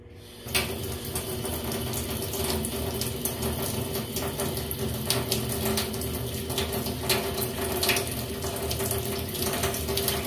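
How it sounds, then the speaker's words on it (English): Water from a tap on a pressure-tank system flows steadily after being switched on, a constant hiss of running water with occasional faint clicks and knocks from the plumbing. "we haven't had the water on, so let's kick that on"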